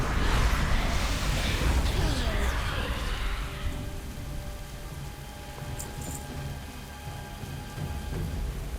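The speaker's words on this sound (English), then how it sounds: "I love the way the rain kind of comes down in sheets here." Heavy rain pours down in sheets across a stormy World of Warcraft zone, a dense steady hiss strongest at the start, with low thunder rumbling beneath and easing slightly as it continues.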